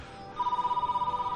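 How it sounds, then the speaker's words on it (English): A telephone bell rings in a rapid trill, one burst of fast, evenly pulsed tones lasting about a second, fairly clear and alone. "I got a phone call from myself in the future."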